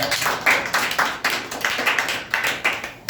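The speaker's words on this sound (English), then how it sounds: "Well, clap for me." Steady hand clapping from a small group, a quick rhythmic patter of claps with no voices, lasting a few seconds.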